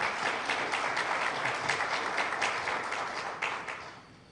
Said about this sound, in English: we must give him a round of applause